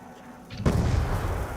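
A loud explosion in the Black Ops 2 Zombies video game hits after about half a second of quiet and leaves a heavy, sustained rumble.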